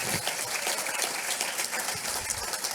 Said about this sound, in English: please, a round of applause and a thank you to Dr.